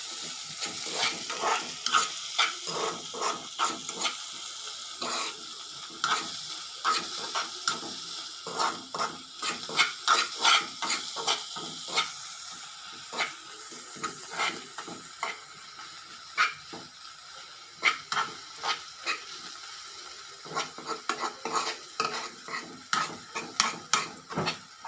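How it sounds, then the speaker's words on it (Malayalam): Turmeric powder being stirred into a sizzling green pepper mixture in a pan, with a constant frying hiss under repeated sharp scrapes and clinks of a spoon against the pan, close and busy throughout. "നമ്മൾ കുറച്ച് മഞ്ഞൾപ്പൊടി അതിനകത്തേക്ക് ഇട്ട് നന്നായിട്ട് ഇളക്കി കൊടുക്കണം."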